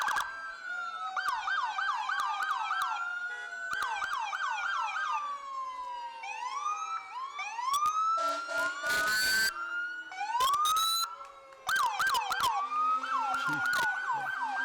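Wailing and yelping police car siren cycling loudly and continuously at close range during a Fourth of July parade, with brief bursts of crowd and street noise between the sweeps.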